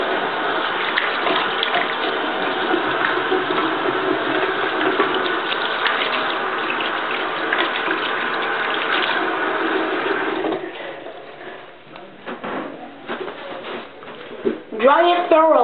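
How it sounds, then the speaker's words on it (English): Tap water runs steadily for about ten seconds while hands are washed in a kitchen before baking brownies, then stops, leaving faint handling sounds and a voice near the end. "And you'll start by washing your hands, which David will show."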